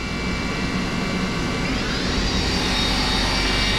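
A Fadal 4020 CNC machine's spindle spins up toward 5000 RPM, a steady loud mechanical whine that climbs in pitch partway through over a constant broadband roar.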